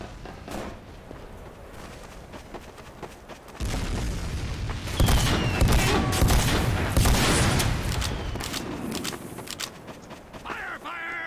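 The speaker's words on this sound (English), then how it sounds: "Backscatter. I love this gun. It's so bad, but it's so fun to use." Backscatter gun firing in a first-person shooter video game: booming blasts and a chaotic crackle of gunfire and explosions, loud and dense through most of the stretch, with battle noise carrying on behind it.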